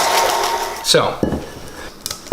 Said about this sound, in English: Back in the mixer we go. And again, very low speed unless you want a face full of flour.